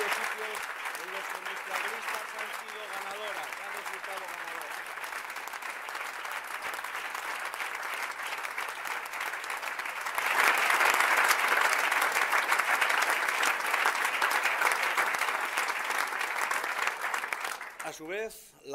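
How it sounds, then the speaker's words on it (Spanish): Audience at an election night event breaks into sustained applause, a dense wash of clapping that swells louder midway and continues for many seconds before cutting off abruptly. "Así que os pido un fuerte aplauso para"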